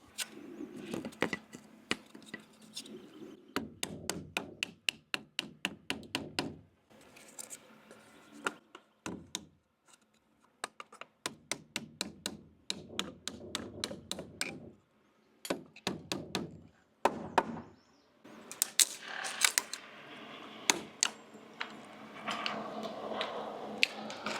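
Wood shims are tapped into place for a wood sub fascia install, series of close hammer knocks and taps in uneven bursts with short pauses between, some rapid runs of blows and scattered single hits.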